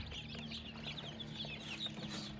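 Many newly hatched baby chicks peep in a busy, high-pitched chorus inside an incubator, quick overlapping chirps close by over a low background hum.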